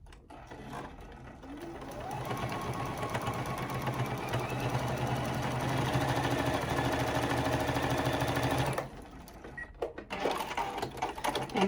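A sewing machine running at a short 2.0 stitch length, stitching across fabric in one steady, continuous run of several seconds, loud and close, then stopping and leaving quiet handling noise.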